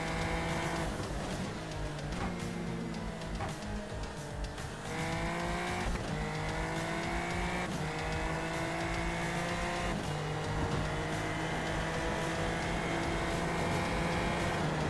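Onboard race car engine in a racing game, lapping the Hungaroring circuit, loud and continuous, with revs climbing and dropping sharply at each gear change and corner.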